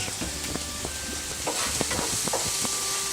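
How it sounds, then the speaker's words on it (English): Onions sauteing in olive oil in a skillet, a steady sizzle running under repeated scrapes and stirring knocks from a utensil, close and moderately loud throughout. "start sauteing the onions"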